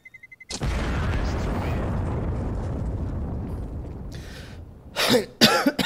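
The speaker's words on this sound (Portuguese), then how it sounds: "Ah, não, tosse de novo não." Mid-game coughing during a Counter-Strike-style shooter: after a few soft taps, a long loud rumbling burst fills the mix, then two or three sharp harsh cough-like bursts follow close to the microphone.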